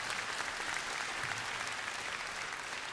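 A concert audience at a big band jazz show applauds in a dense, continuous burst, the clapping steady and fairly loud with no voices standing out.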